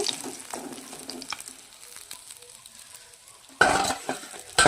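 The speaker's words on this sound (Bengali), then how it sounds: "আর এই মাছগুলো ভাজবো" Singi fish frying in oil for a curry, a steady sizzle that is fainter at first and then swells into a loud, bright crackle near the end, with occasional utensil scrapes.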